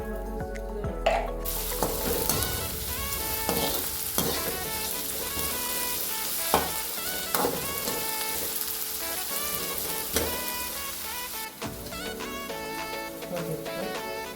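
Grated coconut is sautéed in a hot pan and sizzles steadily while a utensil stirs and scrapes it, with occasional sharper clinks against the pan.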